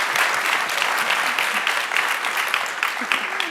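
Steady audience applause welcomes the president of Georgetown University at a host committee event, a dense, continuous patter of clapping at moderate loudness throughout with no one speaking over it.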